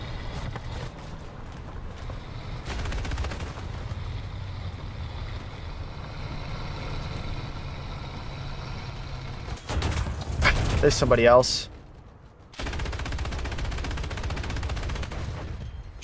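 Bursts of gunfire ring out in the War Thunder video game over engine rumble, some rapid machine-gun strings among them, while a player talks over the action.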